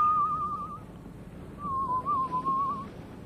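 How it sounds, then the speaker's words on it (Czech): A person whistles a clear tune in two phrases with a short pause between them, heard over a soft background hiss. "A tak si pískám."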